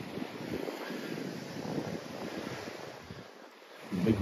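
Calm sea washing onto the shore at Cleethorpes in winter, a soft continuous wash of small waves mixed with wind buffeting the microphone, fairly faint and steady with a slight surge at the end.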